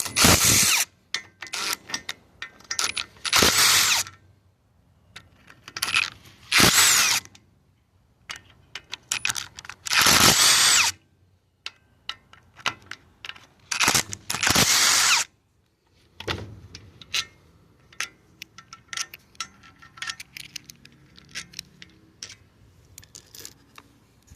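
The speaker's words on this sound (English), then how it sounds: "Going to get your tin socket and take these side cover bolts off." A power tool with a socket backs out the side cover bolts of a Predator 212 small engine in repeated loud bursts of whirring drill noise, separated by short pauses filled with metallic clinks and handling sounds.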